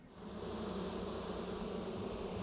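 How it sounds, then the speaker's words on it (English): Bees buzz around a stand of echinacea flowers on a warm summer morning at a Vermont herb farm, a steady close-up hum of several insects droning continuously without pause. "a stand of echinacea bristles with bees"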